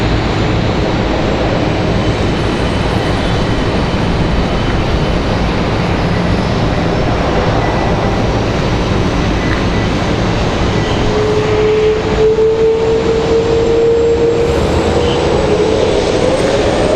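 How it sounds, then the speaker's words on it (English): A FedEx Boeing 767 taxis at Raleigh-Durham airport. Its jet engines give a loud, constant rumble and hiss, and a faint rising whine enters near the end. No voices are heard. "This is 767. Makes its way down to FedEx"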